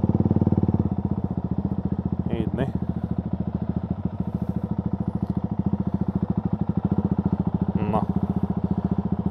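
Motorcycle engines idle in a small parking area by a lake in the Little Carpathians, making a close, steady, rapid putter that continues throughout, with a few brief words spoken over it.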